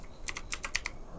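Quick typing on a computer keyboard, about six light clicky keystrokes in a short burst, close and fairly quiet.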